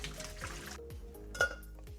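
Cooked tapioca pearls being strained, with soft liquid trickling and light metallic clinks of a strainer or pot, quiet and steady throughout.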